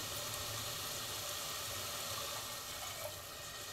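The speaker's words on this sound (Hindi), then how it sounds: "अब इसमें हमें डालना है पानी।" Water poured into a pot of mixed dal gives a steady, fairly faint rushing pour that runs without a break for the whole stretch.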